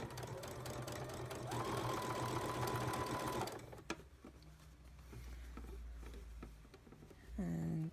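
Sewing machine stitching double fold bias binding onto fabric for a dress, a fast close whirring patter that runs for a few seconds, stops, and then starts again briefly.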